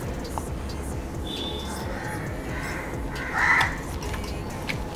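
A crow caws a few times in the background amid outdoor ambient noise, one call standing out louder near the end.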